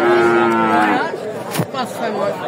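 A young Friesian heifer at a Bangladeshi cattle market lets out a loud, close moo with a clear droning pitch that breaks off partway, followed by market noise.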